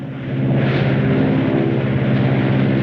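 An airplane drones steadily overhead in a 1944 film scene, a loud, continuous engine roar that swells in the first half second and holds throughout.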